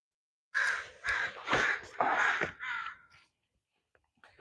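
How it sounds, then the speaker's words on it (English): Several loud, harsh crow caws in quick succession, close by, then a few faint clicks after they stop. "have the crows over here singing. You hear them in the background."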